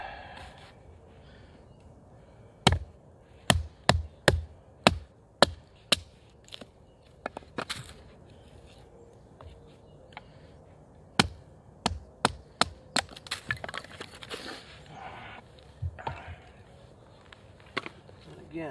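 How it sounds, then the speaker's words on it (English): A rat-tail tang knife shaves feather curls from a partly dry hardwood stick outdoors, giving sharp, distinct scraping cuts in two uneven bursts of strokes, close and crisp against quiet background. "should be pretty easy to get some good feather curls off of that"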